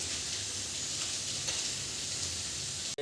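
Eel pieces fry in a pan as herb juice from narasingha and bhedailota leaves goes in, giving a steady, close hiss and sizzle throughout that ends in an abrupt clunk, with no talk.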